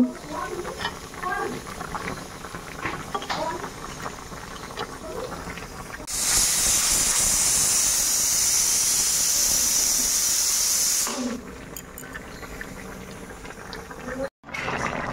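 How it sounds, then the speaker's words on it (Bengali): A pressure cooker boiling papaya lets out a loud, continuous hiss of escaping steam for several seconds, then cuts off, with quieter kitchen noise before and after. "এদিকে প্রেসার কুকারেও সিটি পড়ে গেছে"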